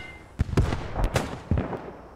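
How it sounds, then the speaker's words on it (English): Grenade blasts in the WWII shooter Post Scriptum at Arnhem: several sharp booming bursts a fraction of a second apart, fairly close and loud, with rumbling tails over a busy battlefield background. "Oh, somebody just threw a grenade"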